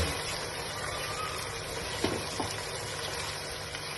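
Spice paste of mint, green chilli, coriander and other masalas frying in a pan over medium heat, a steady soft hiss and sizzle throughout with a couple of faint clinks, no talking.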